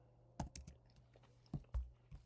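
Typing on a computer keyboard while entering a chat message: a few separate, quiet key clicks spaced irregularly, with a couple of louder strikes near the start and middle, and no talking.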